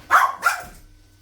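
Two quick barks from house dogs shut out of a room, close and fairly loud, the second slightly softer and trailing off into quiet.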